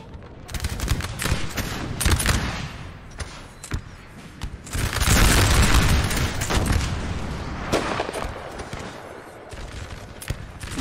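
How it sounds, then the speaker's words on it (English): Howitzer artillery and massed musket fire in a Napoleonic Total War battle, a dense crackle of shots with heavier booms rolling through, loud and continuous throughout. "it is a howitzer, I believe, a howitzer shooting"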